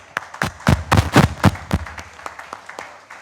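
A church congregation applauding briefly, with a handful of sharp, close claps bunched together at first and then scattered single claps fading out.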